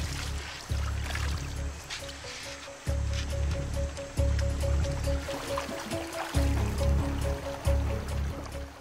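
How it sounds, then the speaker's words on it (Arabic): Handmade raft lashed with tree roots moving down a jungle river, with close sloshing and splashing water and repeated bumps and thuds at irregular intervals. "الوقوف على الطوف يمنحني تحكماً أفضل ويسمح لي بمراقبة النهر أمامي"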